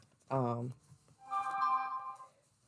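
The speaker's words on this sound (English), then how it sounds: "Got a text message." A phone chimes with a short text message notification made of steady electronic tones, heard close and clear after a brief burst of voice.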